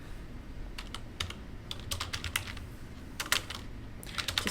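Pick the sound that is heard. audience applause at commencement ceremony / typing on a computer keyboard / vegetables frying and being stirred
typing on a computer keyboard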